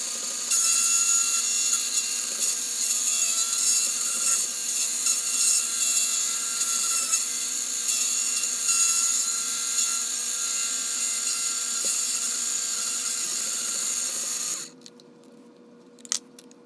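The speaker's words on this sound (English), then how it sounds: "just finished cutting both chassis" A rotary cutting bit trims a Tamiya Mini 4WD MS chassis in a steady, loud, close grinding whir that runs for about fourteen seconds, then stops abruptly, leaving near silence.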